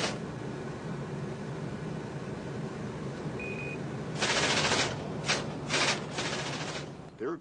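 A few sharp bursts of gunfire crack out in quick succession as private security forces in Iraq fire at a car, over a steady background rumble, moderately loud and somewhat distant.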